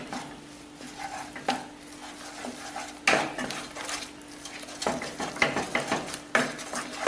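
Paneer is stirred and scraped into a milk powder mixture in a pan on low heat for milk peda, with irregular close scrapes and utensil knocks over a faint background hum.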